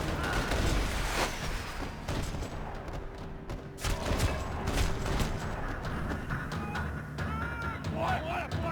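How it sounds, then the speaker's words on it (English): Gunfire in a parking lot in the video game Max Payne 3: scattered sharp shots and bursts crack over a busy mix with a voice talking. "Another parking lot rattling with gunfire."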